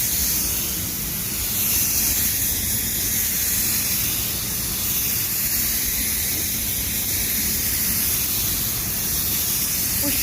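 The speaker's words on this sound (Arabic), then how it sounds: "ننزل بتاني وش ورنيش" A spray gun lays a second coat of clearcoat varnish on a car inside a paint booth oven, giving a steady, loud, unbroken hiss that runs the whole time without talk.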